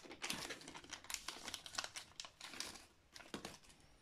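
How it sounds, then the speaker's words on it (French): Plastic packaging crinkles and crackles up close as a cush drive damper for a Honda CB 125 motorcycle wheel is unwrapped, a busy run of quiet rustles and crackles. "Je vais t'en déballer un."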